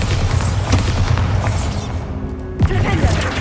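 Bombarda blasting spell from Hogwarts Legacy going off in a loud, booming explosive burst with a sharp crash near the end, set against dense game background sound.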